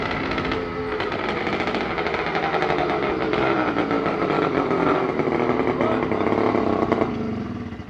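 A motorized Caiçara 20-inch bicycle engine runs steadily just after its first start, a loud, rough, buzzing two-stroke drone that holds fairly even before easing off near the end.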